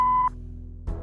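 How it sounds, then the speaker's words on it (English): An answering machine in the video game Kathy Rain 2 gives a single clean electronic beep lasting about a quarter second, followed by a faint hum and a soft click. "if you leave your details after the beep"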